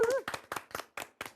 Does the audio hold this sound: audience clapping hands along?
yes